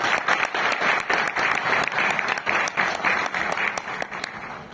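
Audience clapping at an award ceremony honouring work in educational robotics and science, a loud, sustained burst of many hands with crisp individual claps standing out in an even, continuous stream.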